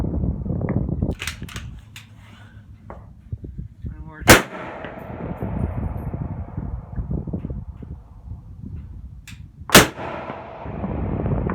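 A 6.5 Creedmoor rifle fires at a 1000-yard target in strong wind: two sharp, loud cracks about five seconds apart, each ringing briefly over constant gusty wind noise.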